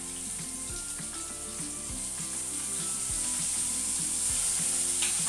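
Onion paste frying in hot oil alongside slit green chillies and chopped tomato, a steady close sizzle with bright hiss throughout, plus a few soft stirring knocks, no voices.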